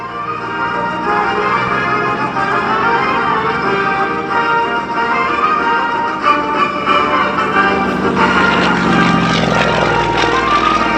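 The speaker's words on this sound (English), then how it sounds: "He rolls the airplane back upright and comes back in from the left." A Pitts Model 12 aerobatic propeller airplane drones overhead at an air show in Geneseo, its engine pitch rising and shifting as it maneuvers, loud and continuous with no voices.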